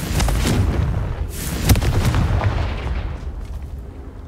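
In the Hogwarts Legacy video game, a Confringo spell sets off a loud, booming explosion with a heavy low rumble and sharp cracking blasts that fade over a few seconds.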